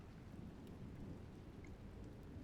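Rain falls steadily outdoors with low rumbling thunder underneath, a soft continuous wash heard faintly at a distance with no voices.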